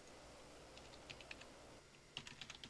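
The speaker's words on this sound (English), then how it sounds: "I'm just going to type that in again" Quick bursts of light key taps on a computer keyboard, close and faint, with a brief pause before another short flurry of typing.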